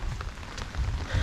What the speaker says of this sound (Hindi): इस बार आने के बाद फर्स्ट बारिश।